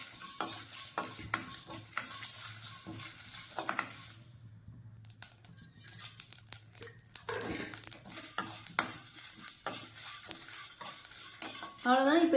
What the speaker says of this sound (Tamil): இதில் இந்த ஸ்பைசஸ்லாம் போட்டு, இந்த மல்லி மிளகு சீரகம்லாம் போட்டு வறுத்து எடுத்துக்கிறேன்